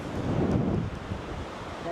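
Strong wind gusting at the seashore at Porkkala in cold weather, a loud steady roar buffeting the microphone with surf-like rumble, no talk.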